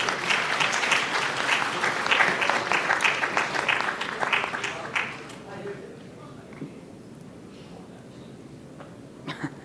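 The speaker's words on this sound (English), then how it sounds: "A big round of applause for our guests." Audience applause for guests taking the stage at a fireside chat during a company's 25th anniversary celebration, loud sustained clapping for about five seconds, then fading into quiet room murmur.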